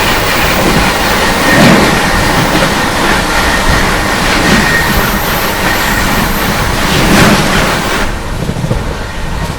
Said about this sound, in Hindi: सामने से आती हुई लालगढ़ प्रयागराज सुपरफास्ट।